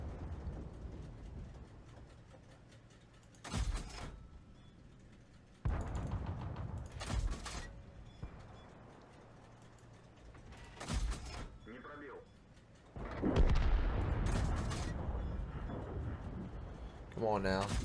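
Tank cannon shots in World of Tanks from an MS-1 Russian light tank, three or four loud sharp blasts spaced a few seconds apart over engine rumble, with a player talking between them.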